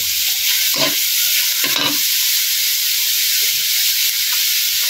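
Hotdog pieces fry in a pan for sinangag fried rice, giving a loud, constant hissing sizzle with a couple of brief scraping stirs near the start.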